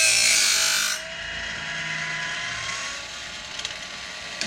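A Woodland Mills Grindlux 4000 grinder sharpens a sawmill band blade tooth with a bright, loud grinding rasp for about a second, then winds down into a low mechanical hum with a few small clicks.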